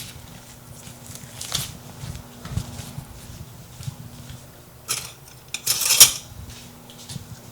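A fork and cutlery clinking against dishes while steak fettuccine Alfredo is tasted, with scattered sharp metallic taps and clatters close by over a low hum, busiest toward the end, with no talk.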